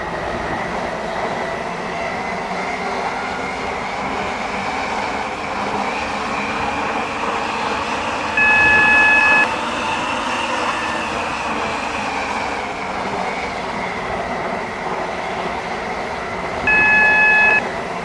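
Class 720 electric train driven in the Roblox game Stepford County Railway, a steady loud rolling hum with an overhead tone that runs the whole time, and two short electronic chimes near the middle and near the end.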